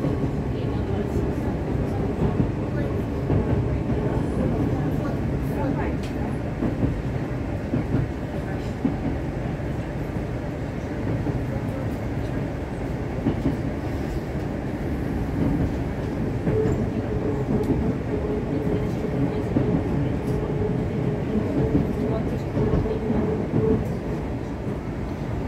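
A train on the Moscow Metro line between Fili and Kiyevskaya rumbles past steadily for a long stretch, a continuous rolling roar with faint rhythmic clatter of wheels on rails.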